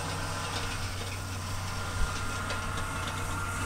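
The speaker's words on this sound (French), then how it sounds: "Vous entendez le tracteur, c'est déjà pas mal." Distant tractor engine idling steadily in a rural setting, a low constant drone with a faint whine and light wind noise throughout, no voices.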